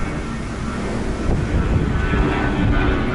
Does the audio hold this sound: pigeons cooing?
no